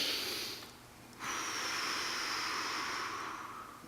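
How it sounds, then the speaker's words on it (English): A person takes a slow breath in and then out during a post-running stretch, a soft close airy inhale after a brief pause followed by a long steady exhale, with no talking. "And then pretty soon you're just going to breathe in."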